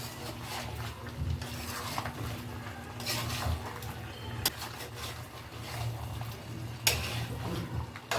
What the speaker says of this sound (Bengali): আমি এটাকে ভালো করে নাড়িয়ে ঢেকে দেবো।